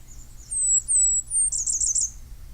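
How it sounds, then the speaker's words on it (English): A Blackburnian warbler sings a series of thin, very high, clear whistled notes that end in a quick run of short rising chips. The song is fairly close and loud against a faint low background hum, with no talking. "Blackburnian warbler."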